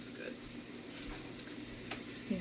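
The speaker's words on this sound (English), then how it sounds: "You can hear the pan is starting to sizzle" Oil heating in a frying pan, about to cook sausage for sausage gravy, gives off a soft, steady low sizzle with faint crackles, quiet and continuous throughout.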